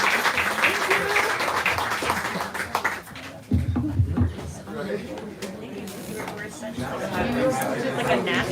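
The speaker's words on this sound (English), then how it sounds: "Let's give these two one last round of applause" Audience applause for two authors at a bookstore reading event, steady clapping mixed with crowd chatter throughout, with a brief lull midway before the clapping and talk swell again.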